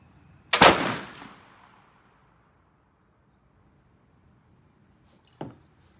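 A Pedersoli Scout Carbine flintlock black powder rifle fires a single sharp, loud shot with a short decaying boom outdoors, followed about five seconds later by a fainter brief knock.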